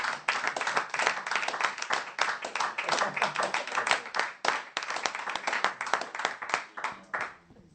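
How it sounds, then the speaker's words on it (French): A church congregation claps together in quick, steady rhythmic applause for several seconds, loud and close, then fades at the end. "On peut l'acclamer, frère."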